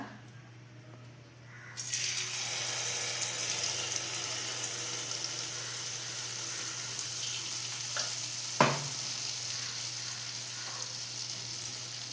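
Malpua batter sizzling and bubbling steadily in hot oil, starting abruptly after a quiet moment and holding as a dense, close crackle with a few sharper pops and spatters.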